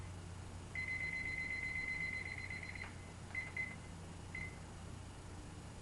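A kitchen timer set while eggs come to a boil gives a long, steady electronic beep, then two shorter beeps, fairly quiet over low room hum.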